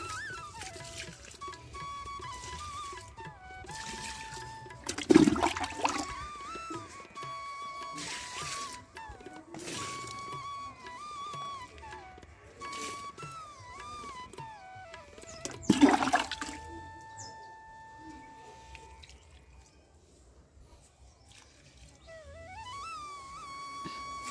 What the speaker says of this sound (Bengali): এখন আমি এই জলটা পুরো গাছে দিয়ে দেবো